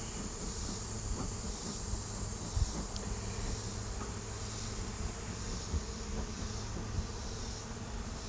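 Honey bee colony buzzing during a hive inspection, a dense continuous drone with occasional faint knocks and no talk over it.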